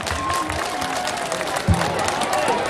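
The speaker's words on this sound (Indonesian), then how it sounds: "Mari kita tepuk tangan untuk Dharmasraya." A crowd claps at an outdoor record-setting event in Dharmasraya, West Sumatra, where grilled tilapia satay was served. The applause is steady and scattered, and voices and crowd noise mix through it.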